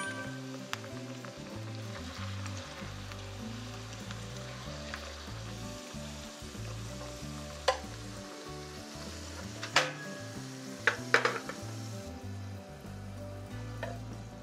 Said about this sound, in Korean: 튀길 때는 팬을 기울여서 튀겨주세요.